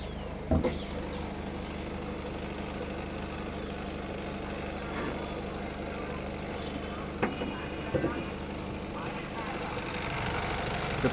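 The 1.5 i-DTEC diesel in a 2018 Honda WR-V VX ticks over at idle, a constant low drone with a few scattered clicks and knocks nearby.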